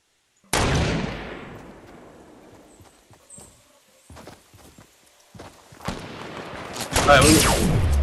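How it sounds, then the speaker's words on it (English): Gunfire in a multiplayer shooter video game: a loud shot opens the clip and fades, followed by scattered distant pops and then a heavier burst of rapid shots near the end. "Someone shooting."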